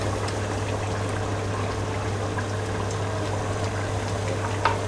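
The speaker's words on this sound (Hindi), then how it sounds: "मैं ये 1 कप जो है ऑयल डाल रहा हूँ इसमें।" Cooking oil is poured into a pot of pressure-cooked pigeon meat in a kitchen, a continuous bubbling, sizzling liquid sound that stays steady and close for several seconds over a low hum.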